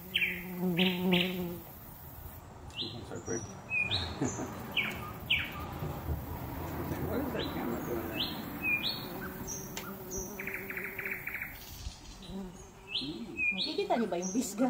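A bee buzzes close to the camera on a porch with a climbing grape tomato plant, a wavering drone rising and fading as it moves, with birds chirping repeatedly around it and a voice speaking faintly at times.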